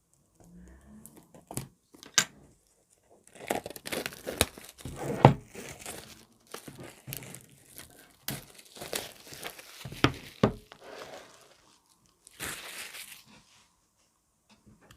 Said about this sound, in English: So let's open this deck without further ado.